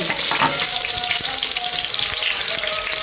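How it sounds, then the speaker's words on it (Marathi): Chopped green chillies dropped into very hot oil give a loud, steady sizzle and spatter that fills the whole stretch, close up and continuous, for masala rice. "आता तेल तापलंय, आता हिरवी मिरची कट केलेली टाकून घेऊ."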